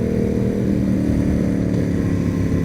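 Yamaha FZ07 motorcycle engine running at high revs, a loud, steady, dense drone held without a break from start to finish.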